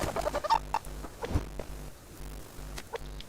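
A chicken in the video game Subsistence clucks repeatedly, fairly near, over a low rhythmic pulsing background.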